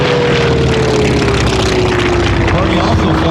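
An F4F Wildcat warbird propeller plane makes a low photo pass at an airshow, its loud, steady engine-and-propeller roar filling the air and sliding gradually lower in pitch as it passes.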